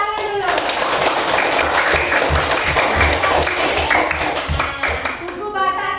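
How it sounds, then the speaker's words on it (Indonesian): A classroom of children claps together in a brisk, rhythmic round of applause, close and fairly loud, with young voices chattering over the clapping as it starts and trails off. "tepuk tangan dulu"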